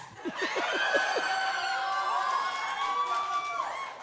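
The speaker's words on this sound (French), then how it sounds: "Pourquoi vous applaudissez?" A live comedy show audience in Rouyn-Noranda bursts into sustained applause mixed with cheers and laughter: a dense, steady crowd roar lasting several seconds, fairly close and loud.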